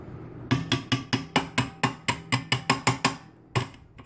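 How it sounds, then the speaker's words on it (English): A mixing bowl being scraped while making a cake gives a run of about fourteen sharp, evenly spaced knocks, close and distinct, then a brief pause and one final knock. "Scrape my bowl so everything's kind of incorporated."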